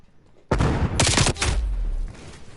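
Video game gunfire during a hardpoint esports match: a sudden burst of rapid shots cracks out loud, then fades into a rumbling tail.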